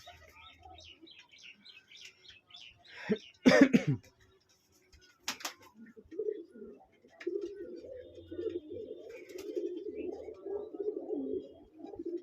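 Pigeons coo and murmur in a hobby pigeon loft, soft chirps early on, then a burst of wing flapping and clatter, followed by steady, close low cooing through to the end.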